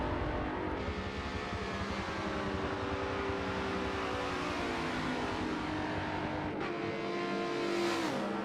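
Race car engine in an online touring car racing game, screaming at high revs through a lap with gear shifts and brief tire squeal, loud and continuous with no talking.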